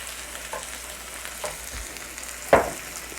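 Tomatoes frying in olive oil in a pan give a soft, steady sizzle, broken by a few faint stirring clicks and one sharper clatter near the end.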